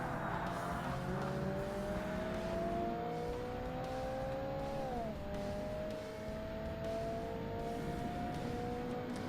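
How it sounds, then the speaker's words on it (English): A simulated 4-cylinder turbocharged hatchback engine in Forza Motorsport drones steadily, pitch rising gradually then dipping briefly as it shifts, with continuous tyre and road noise. "Doesn't actually sound too bad for a 4-cylinder turbo."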